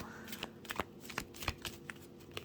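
Oracle cards are shuffled by hand up close, a quick run of soft flicking and riffling snaps at an irregular pace.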